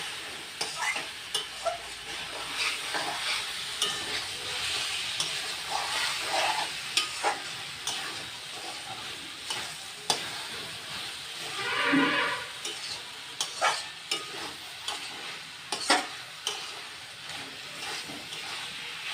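Dried fish curry with scorched chili being stirred in a pan, a steady scraping stir over continuous frying sizzle with occasional louder clacks, heard close and alone with no voices.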